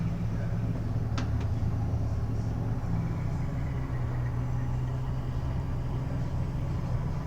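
Low, steady rumble of an O-Train light rail train rolling along in Ottawa, with a motor tone that shifts and climbs in pitch as it accelerates toward 50 before a hill.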